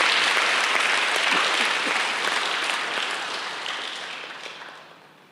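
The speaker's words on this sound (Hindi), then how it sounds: "एक बार सब एक दूसरे के उत्साहवर्धन में तालियों की गड़गड़ाहट करेंगे।" An audience at a blood donation event breaks into sustained, dense applause that holds steady before gradually tapering off toward the end.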